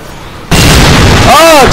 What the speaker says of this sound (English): Oh, it's more explosions.